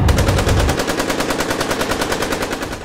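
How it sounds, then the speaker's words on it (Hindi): AK-47 automatic gunfire in a continuous fast burst of evenly spaced, loud shots with no pauses, from a news report on an attack on a candidate's convoy in Siwan, Bihar. "रईस खान के काफिले पर AK-47 से अंधाधुंध फायरिंग किए जाने की खबर मिली है"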